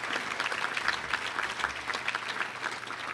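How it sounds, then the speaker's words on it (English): Audience applause at a Little Rock Touchdown Club luncheon honoring Rex Nelson and Jim Rasco: dense, continuous clapping from a sizable crowd, steady and fairly close, with individual claps pulsing through the wash. "Let's give them a round of applause for their hard work"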